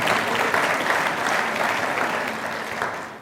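A hall audience at a city master plan presentation applauds, a dense, even wash of clapping that carries on for about three seconds and slowly tapers off.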